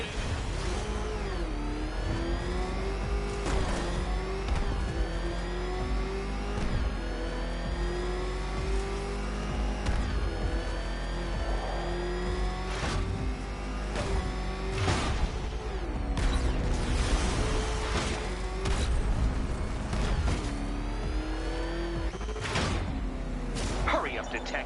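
A ramshackle car motor revving hard in a PS4 driving game, engine pitch sweeping up and down repeatedly with loud continuous roar, intermittent impacts and a voice talking over the top.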